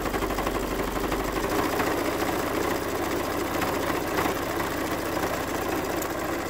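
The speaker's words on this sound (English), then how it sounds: "you just keep sewing." A sewing machine stitches a homemade fabric face mask, its needle hammering in a fast, steady mechanical rhythm with a constant motor hum throughout.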